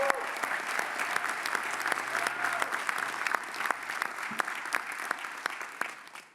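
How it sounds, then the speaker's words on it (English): Sustained applause from a commencement audience at an osteopathic medicine graduation, a dense wash of many hands with a few sharper claps standing out, steady and fairly loud for the whole stretch. "One more round of applause for them all"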